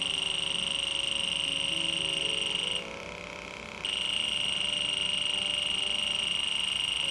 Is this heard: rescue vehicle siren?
no